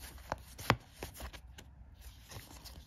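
Cards from the Final Girl: Carnage at the Carnival board game expansion are shuffled by hand close up, a few quiet papery riffles and taps with soft handling noise and no talking.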